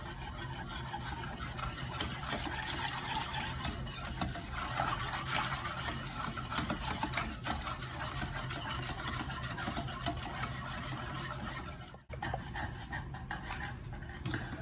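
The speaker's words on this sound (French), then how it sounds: "Et je mélange." Cream being stirred in a pot on a lit stove for baklawa, a steady close scraping and rubbing that continues without pause, with a brief dip near the end.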